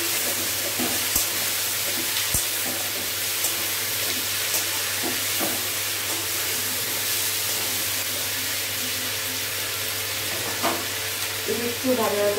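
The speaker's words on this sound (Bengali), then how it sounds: "একটু ভালো ভাজা হোক," Paste of ginger, capsicum and green chili frying in hot oil in a home kitchen, a steady loud sizzle and hiss with occasional stirring clinks, continuous throughout.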